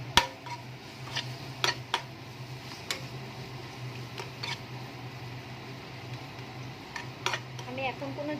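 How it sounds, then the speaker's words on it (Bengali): Ground chilli, cumin, coriander and turmeric stir-fried in a pan on low heat for egg biryani, with a steady low sizzle under scattered sharp clinks and scrapes of a spoon against the pan, close by and without talking. "এত কিছু দিয়ে এবার আমি ভালো করে মশলাটাকে কষিয়ে দেবো।"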